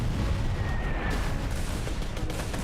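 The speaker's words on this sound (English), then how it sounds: "Allied commanders launched the most powerful preliminary bombardment of the war." World War I artillery bombardment, a continuous dense rumble of heavy guns and explosions, loud and sustained without pause.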